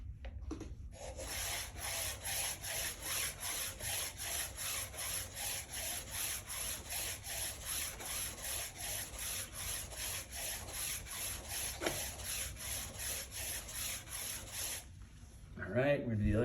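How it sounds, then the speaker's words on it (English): The finest yellow sharpening stone polishes a speed skate blade in a long, even series of rapid back-and-forth strokes, each a close, gritty rasp, ending with a few handling knocks. "I'm gonna take my finest stone, which is the yellow, okay? And I'm just gonna run it over like 20 times each side"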